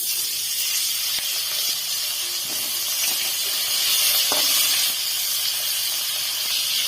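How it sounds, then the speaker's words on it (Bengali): Pieces of lailontika fish fry in hot refined oil in a kadai, producing a continuous bright sizzle with scattered small pops and crackles, fairly close and steady, swelling slightly midway. "মাছগুলো এবারে ভেজে নেব।"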